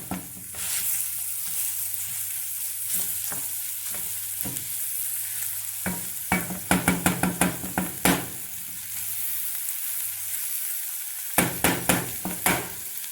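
Butter melts and sizzles in a pan on low heat at the start of an apple cider and browned onion soup. A steady sizzle runs throughout, broken by sharp clicks and taps of a utensil against the pan.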